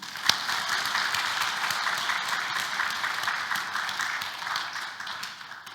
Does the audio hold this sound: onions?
no